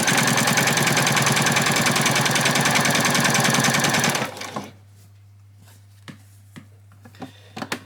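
A sewing machine stitches an apron in a steady, loud, rapid whir for about four seconds, then stops, leaving a low hum and a few faint clicks.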